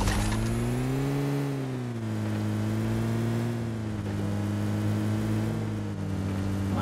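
A car engine in a battle royale game, with the vehicle badly damaged, drones loud and close with a steady low hum that swells and eases in pitch across several revs, with no talking over it.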